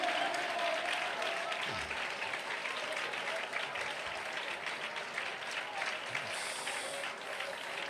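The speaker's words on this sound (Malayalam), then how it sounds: "കൈയടിക്കേണ്ടവർ നന്നായി കരങ്ങളടിച്ചേ." A church congregation claps their hands steadily throughout, a dense continuous patter of applause heard somewhat distantly beneath a preacher's voice.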